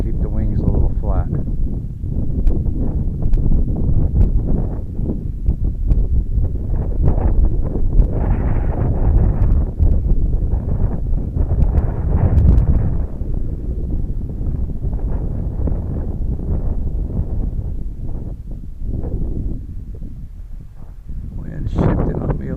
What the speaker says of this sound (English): Wind shifting on me a little bit.